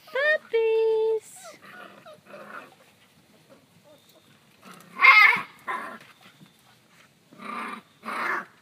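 Puppies growl and yip in short bursts, with whimpers between, and a person talks intermittently nearby.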